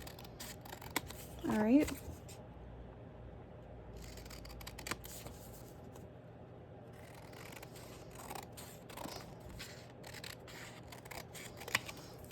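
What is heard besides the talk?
scissors cutting paper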